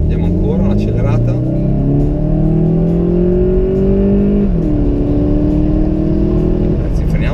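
A Volkswagen Golf GTE plug-in hybrid accelerates hard, its engine note climbing steadily in pitch through the gears with a brief dip at a shift, loud and close from inside the cabin.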